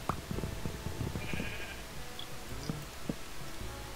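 Sheep bleating in Minecraft, several short cries scattered over a steady game background with soft ticking and thumps, no talk.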